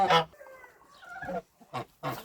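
Geese on a farmyard honk in a few short, loud bursts with pauses between, close by, alongside hens in a poultry yard.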